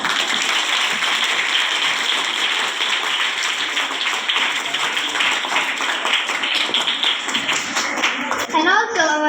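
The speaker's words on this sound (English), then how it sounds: "Give a round of applause for him." Students at a high school event clap for a guest criminal lawyer, a broad, continuous round of applause that runs steadily before a voice cuts in at the very end.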